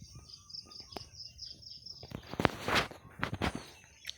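Birds call and chirp in a rural village setting, with scattered short tweets and a few louder bursts later on, alongside light rustling and footstep-like sounds close by.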